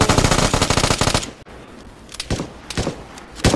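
Rapid automatic gunfire from the video game Vigor rattles close and loud in a fast burst, then falls silent before a few scattered single shots.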